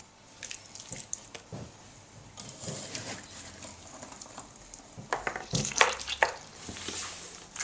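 Water runs and splashes into a pan of hawthorn berries being prepared for jelly: a steady, close, moderately quiet gush broken by a few sharp knocks and clinks, with no voices.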